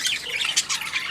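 A caged breeding bird squawks and calls to her sisters in a short, bright burst of close, harsh chirps with no voices over it.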